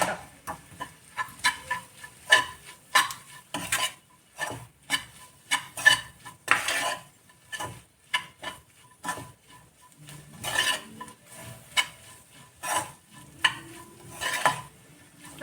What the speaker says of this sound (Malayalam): ഇനി അതിൻ്റെ പച്ചമണം മാറണ വരെ നന്നായിട്ട് ഇളക്കി കൊടുക്കുക